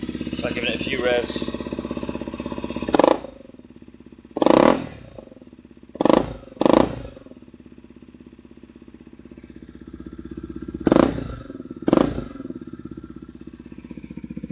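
A Honda CRF250M with a custom exhaust idles low, then is blipped in several short, sharp revs, some in quick pairs, loud and close.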